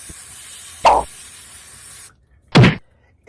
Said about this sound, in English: You're gonna wanna clean your filter with some carb cleaner. So all you do is spray it